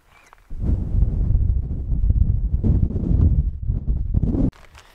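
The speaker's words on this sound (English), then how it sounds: "It's very windy up here." Strong wind buffets the microphone in loud, roaring gusts for several seconds, then drops away abruptly.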